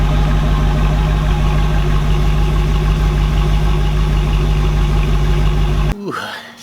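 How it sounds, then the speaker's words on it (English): A 1991 Chevrolet Camaro Z28 V8, freshly fitted with a new battery, idles loud and close with a steady, even rumble before it abruptly shuts off near the end. "the car still starts"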